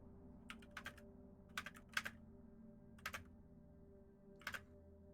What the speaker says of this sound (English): we heard your like keyboard taps in the background